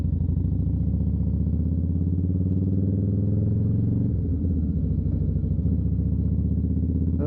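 A heavy motorcycle engine runs steadily and loudly while riding in cold weather, with a rough shift partway through as the rider struggles to get into second gear.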